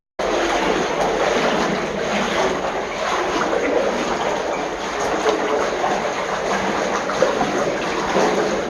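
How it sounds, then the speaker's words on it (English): Continuous watery sloshing and splashing, steady and fairly loud throughout, as someone in wellington boots wades through a flooded tunnel at Battersea Power Station, echoing in the enclosed space. "we splosh through the water of this flooded tunnel"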